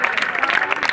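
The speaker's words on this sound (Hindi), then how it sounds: "और ताली यार कितनी तालियां बजाओ।" Close, loud clapping from an audience at a science awareness show, a brief dense burst of many hands.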